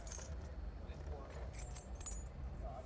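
A set of car keys jangles and clinks close by in short metallic bursts, while a person talks over the sound.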